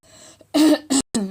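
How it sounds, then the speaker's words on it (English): A single person coughs close up: a brief throat sound, then three sharp coughs in quick succession, loud and clear, with no other talk. "Excuse me, cough."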